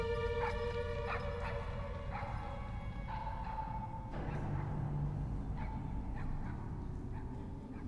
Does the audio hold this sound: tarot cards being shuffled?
no